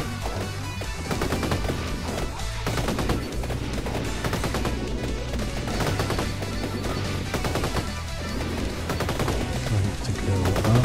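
A leveled-up gun firing nonstop in Vampire Survivors, a dense, busy clatter of rapid game shots and impacts that runs the whole time, loud and continuous.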